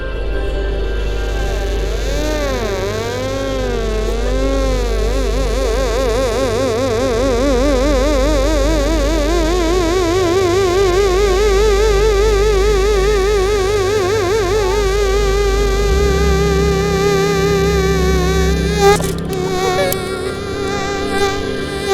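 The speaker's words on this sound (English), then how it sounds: "What you're hearing is an excerpt from a 40-minute group drone." Sustained group drone from an electronic metal box with switches and knobs, layered warbling tones wavering and bending over a steady low hum, loud and continuous throughout, shifting in pitch near the end.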